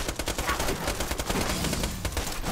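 Rapid gunfire from a gun in the video game Borderlands 2, a dense burst of shots fired in quick succession that runs steadily for a couple of seconds, with no talk over it.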